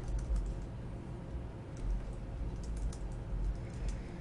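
Dimension text typed on a computer keyboard while annotating a technical hole block drawing: a steady run of soft, close key clicks with no voices.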